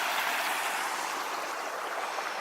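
Water in a creek on Trapper Creek Trail rushes steadily and close, a dense even hiss with no pauses.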